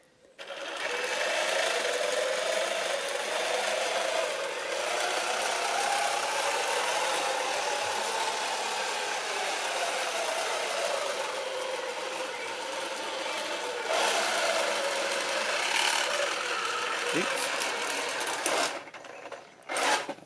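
A 3D printed RC tank modelled on the M22 drives around, its small motor giving a loud, steady whine with buzzing drivetrain noise that holds nearly constant for about twenty seconds, with a brief dropout near the end.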